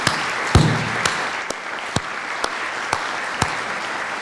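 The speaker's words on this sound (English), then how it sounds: "So we owe Bill a round of applause for that." A lecture audience claps steadily in a sustained wash of applause, with a few sharper individual claps standing out at regular intervals near the start.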